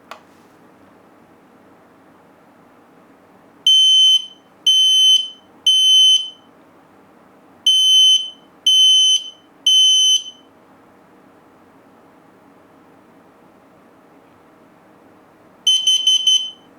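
Loud, piercing beeps sound from an X-Sense XP06 hardwired smoke and CO alarm under test, in two groups of three evenly spaced pulses over a low background hum, followed by another short burst near the end.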